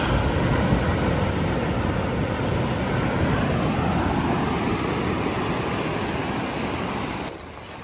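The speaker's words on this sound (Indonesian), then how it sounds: "Ini ombaknya besar" Large ocean waves breaking on a pebble coral beach, a continuous heavy roaring wash of surf that stays loud before easing slightly near the end, with no talking.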